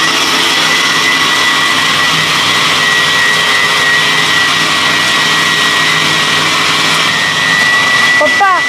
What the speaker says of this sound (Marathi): किती वेळ मिक्सरमध्ये दळावं लागतं ते ते आणि पायनॅपल बारीक होईपर्यंत